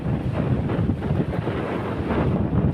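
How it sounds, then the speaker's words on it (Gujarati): Strong storm wind on the sea coast roars and buffets the microphone in a continuous, loud rush with gusty surges, with no voices. "અને પવનો આવી રહ્યા છે, અને અત્યારે વાવાઝોડું જ છે"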